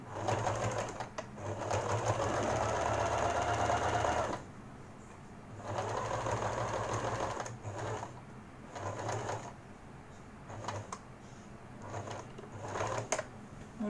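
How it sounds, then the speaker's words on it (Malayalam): A sewing machine stitches fabric for a roll-up pencil case in several bursts of rapid, close stitching separated by pauses filled with light clicks and fabric handling. "അപ്പോൾ അത് ഒരു നീളത്തിലൂടെ നമ്മൾ വരച്ച് തയ്ച്ച് പോവുക."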